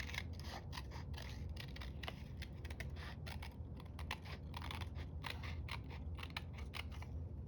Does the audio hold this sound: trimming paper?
yes